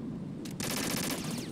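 Rapid automatic M4 rifle fire in Metal Gear Solid 2 starts abruptly after a brief lead-in shot, continuing as a sustained close burst over low background noise.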